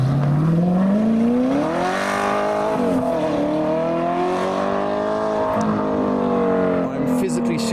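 Modified car with a raspy V8 engine driving past in heavy rain after a car show, a loud rising and falling snarl that swells as it passes close by.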